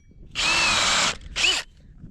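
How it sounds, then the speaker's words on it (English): A power drill bores through a wall framing plate near a concrete floor, two loud bursts of whining drilling close by, a long one then a short one, with no talking. "and then I'll drill all the way through when I'm not directly on the top of the concrete"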